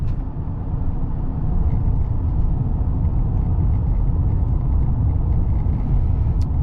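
A high-mileage 2012 Honda Pilot EX-L engine while driving, a loud, continuous low rumble of engine and road noise that holds steady throughout.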